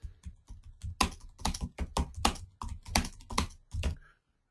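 Rapid typing on a computer keyboard, a dense run of close, crisp key clicks in uneven bursts that stop abruptly near the end.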